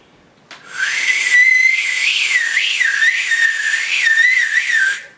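A person whistles loudly and shrilly in imitation of a video game hero's call, one sustained piercing tone lasting several seconds with small wavering rises in pitch, close up and alone.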